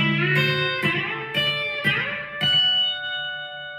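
A B-bender electric guitar plays a high open D seventh passage near the top of the neck, with several plucked notes and bends ringing out in sequence before a sustained final chord, clear and close with no talking.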